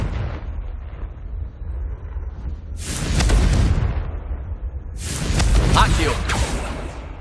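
Confringo fire spell explosions in the video game Hogwarts Legacy, two loud whooshing blasts a couple of seconds apart, each rolling into a broad rumble over game background sound.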